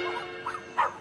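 A small Chihuahua gives short, high yips, three quick barks spaced across a second, nearby and fairly clear above a faint background hum.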